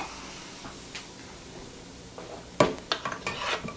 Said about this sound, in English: Got my butter straight in there, and I'm just gonna stir off heat